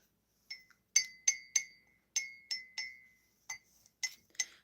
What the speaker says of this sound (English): Pushing the tea leaves back down to the base of the cup.